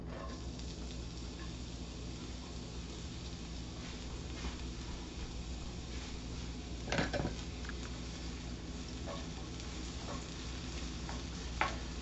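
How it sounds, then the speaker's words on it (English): Onions hit hot oil in a pan and fry with a steady, dense sizzle that holds throughout, broken by a few soft stirring clicks and one sharper clatter near the end; no one speaks. "I've got some oil in that pan. Gonna get our onions in."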